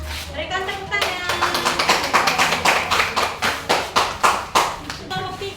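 A class audience claps for a student group after its presentation, with a steady run of fairly loud, close, evenly spaced claps that thin out near the end.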